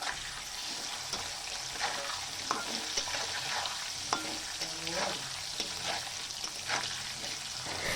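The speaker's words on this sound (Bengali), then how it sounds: "তোমরা তো দেখতেই পেলে যে আমি আলু ভাজাও এখানে বসিয়ে দিয়েছি।" Potatoes fry in a pan on the stove, with a soft continuous sizzle broken by occasional stirring scrapes and clicks, fairly quiet and heard alone.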